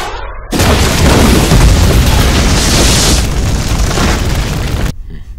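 A missile blast in the El Matador video game erupts as one long, loud, booming roar that holds steady for about four seconds and then cuts off to silence.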